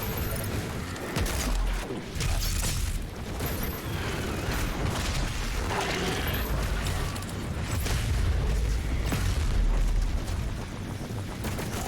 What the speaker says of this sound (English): Grenades are really effective when you remember to use them.